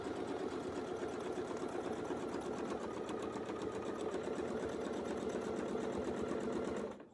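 A sewing machine runs steadily along a quilting template, its needle pounding in a fast, even rhythm at close range for several seconds before stopping abruptly.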